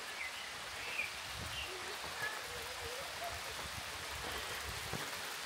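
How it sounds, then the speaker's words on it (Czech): Rain falls on the summit of Dymník in Czechia as a steady, moderate hiss of droplets, fairly close, with faint scattered patters and no clear speech. "A začalo nám pršet."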